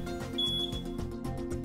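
EAS security alarm at a store exit set off by a polycarbonate grey lid keeper with an AM or RF coil, a steady electronic tone sounding amid pulsing background noise with no talk.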